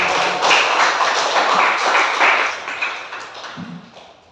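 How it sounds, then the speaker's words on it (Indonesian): Classroom applause for a student group after its presentation: a dense, steady patter of many hands clapping for about four seconds, fading slightly toward the end, with no talking. "ini aplaus kepada kelompok 3"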